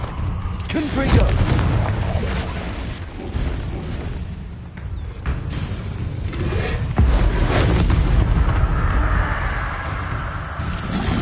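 Repeated booming blasts from the Confringo spell in Hogwarts Legacy, several heavy explosive bursts with rumbling low end over a continuous noisy combat background.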